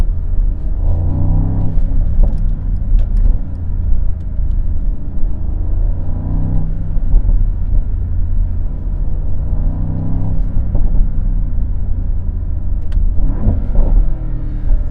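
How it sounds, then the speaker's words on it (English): Mercedes-AMG SL 63 with a biturbo V8, rumbling as it downshifts with rev matching, several swells and blips of engine sound repeating across the stretch, with no talk. "that rev matches very well on the downshift"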